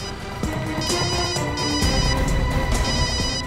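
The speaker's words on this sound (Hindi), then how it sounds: "घंटी तो बज रही है सर।" A mobile phone rings nearby with a repeating melodic ringtone, steady and fairly loud, its tonal pattern cycling through the whole stretch with no talk over it.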